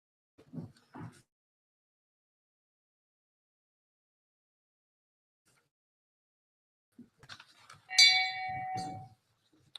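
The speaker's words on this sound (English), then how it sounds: "Phil, you've got to ring the bell." A hand bell rung once to open a full council meeting, a bright metallic ring near the end that decays over about a second, after faint knocks and rustling in a quiet chamber.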